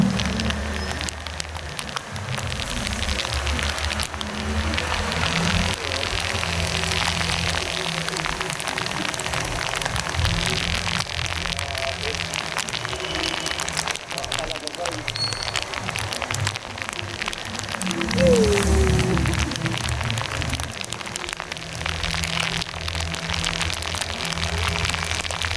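Steady rain drums on a car during a drive through flooded streets in Calamba, Laguna: a dense, even hiss of drops on the roof and glass, with a low road rumble underneath.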